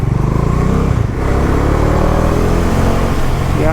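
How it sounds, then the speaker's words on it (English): A rented motorcycle's engine on a Spiti mountain ride revs steadily while overtaking trucks, a loud, close, mellow growl with a brief dip and then sustained throttle, with wind rush and no talk. "I like the sound of this motorcycle. It's a bit more mellow. That was like growling."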